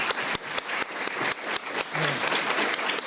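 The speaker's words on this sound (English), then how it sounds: "please join me again in a round of applause for our three speakers." Conference audience in Ottawa gives a round of applause for three panel speakers, a dense, steady burst of many hands clapping with a few sharper claps standing out, no talk.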